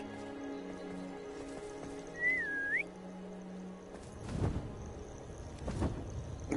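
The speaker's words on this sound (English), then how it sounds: "Low quality whistle." A single rising-and-falling whistle in the game Hogwarts Legacy sounds briefly and clearly over a soft ambient game bed, followed by heavy thumping hoofbeats and rustling as a beast arrives.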